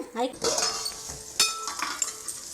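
Onions sizzle in a hot pan while a metal spoon stirs and clinks against it, with scraping strokes and a bright clatter over soft frying hiss.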